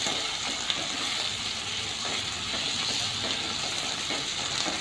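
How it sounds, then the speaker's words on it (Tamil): Tomatoes sautéing in a pan for vadacurry hiss with a constant bright sizzle and faint bubbling crackles, close and continuous with no talking. "இப்போ தக்காளியும் போட்டு வதக்கலாம்."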